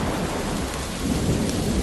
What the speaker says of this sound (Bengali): হঠাৎ দমকা হাওয়া থেকে প্রবল ঝড় বৃষ্টি শুরু হলো।